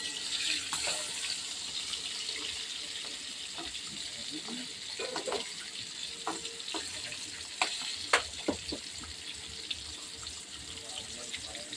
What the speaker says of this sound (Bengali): এক সাইড আমাদের ভালোভাবে ভাজা হয়ে গেছে এবং আমরা দু সাইডটা ভালোভাবে ভেজে নিলাম।